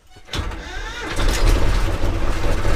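A T-25 tractor engine, fresh from a fuel filter change, cranks briefly and catches, then settles into a loud, steady running rumble close by.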